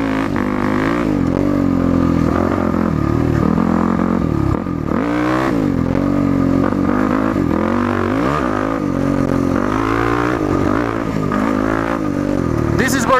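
Yamaha WR450F dirt bike on a trail, its engine revving hard in rising and falling bursts as the rider pulls a sitting wheelie, loud and close with clatter and some wind noise.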